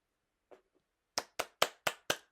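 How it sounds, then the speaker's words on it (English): A handful of sharp hand claps, five evenly spaced in quick succession, close and crisp, preceded by a couple of faint soft taps. "Clap it up for that, bro."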